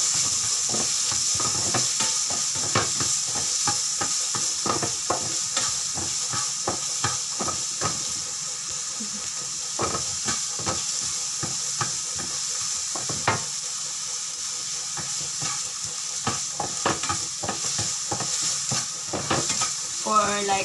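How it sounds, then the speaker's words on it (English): Garlic and onion fry in a pan for a lasagna base, a loud continuous close sizzle with steady scraping and stirring strokes throughout and no talking. "then we're going to put the garlic. And then we're going to mix the onion."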